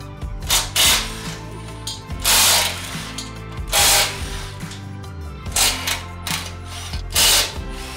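A hand ratchet works loose 14mm bumper bolts on a Toyota 4Runner, giving close, loud runs of clicking about every one to two seconds, with short pauses between strokes.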